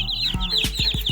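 Broiler chickens clucking on a small village farm, a dense flurry of close, overlapping clucks and short calls with repeated low thumps, no voices.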